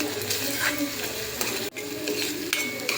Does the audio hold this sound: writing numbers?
no